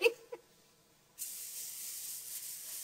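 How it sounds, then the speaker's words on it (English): A can of cooking spray hisses steadily onto a pan for over a second after a couple of faint clicks, close and fairly loud. "We're going to put it in a pan that is sprayed with cooking spray."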